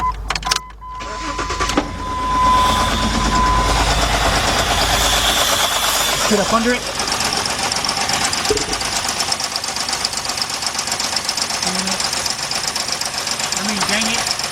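A 2003 Jeep Liberty Sport with the 3.7 engine runs very rough with a misfire, a steady uneven ticking and knocking drone heard up close, with someone talking briefly at the start.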